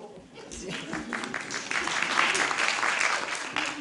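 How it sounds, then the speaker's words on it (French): A theatre audience applauds at a season presentation: steady, dense clapping that swells slightly and holds at a fairly loud level, with voices mixed in underneath. "vous entendez, le public applaudit"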